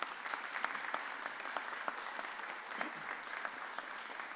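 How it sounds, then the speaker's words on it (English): Attendees at a mayor's press conference on a school extended-year program give a round of applause, a faint, steady patter of many hands heard from some distance, unbroken throughout. "Let's give Dr. Nixon a round of applause"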